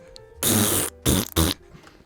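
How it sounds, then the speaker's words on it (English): A man bends over and farts a song into a microphone: a long buzzing blast followed by two shorter bursts, loud and close, with no talk over it. "farts the song into the microphone"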